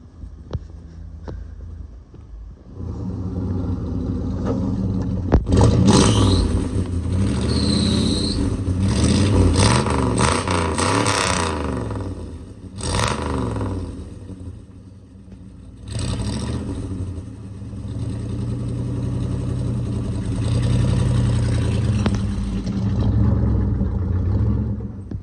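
Old high-boy plow truck fitted with glass pack mufflers, idling low and then revving repeatedly into loud, rumbling bursts with deep throaty exhaust roar, settling between revs over a long stretch close by.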